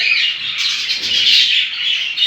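A male budgie chirps at home in a breeding setup. Its bright, continuous twittering warble is close and loud for a couple of seconds, with no talk over it.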